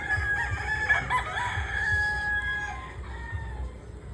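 Young roosters (stags) at Bata Norma game farm in San Enrique crow close by, with a sustained cock-a-doodle call and some clucking over faint farmyard background.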